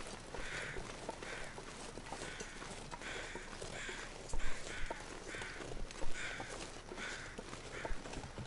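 Crows cawing in the video game The Long Dark, a series of harsh repeated calls in a steady rhythm over a dense, noisy backdrop, with a few louder thumps partway through.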